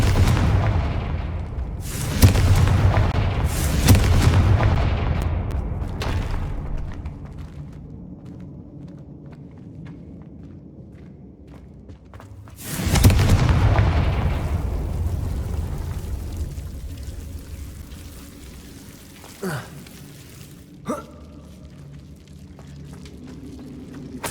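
Confringo blasting-spell explosions in the Hogwarts Legacy video game, two heavy rumbling booms several seconds apart, each with a long fading tail, followed by a few faint, brief clicks and thuds.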